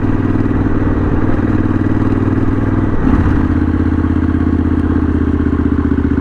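Custom Triumph Bonneville bobber motorcycle idling steadily nearby, a continuous low throbbing engine note with a brief blip of throttle midway, no talk.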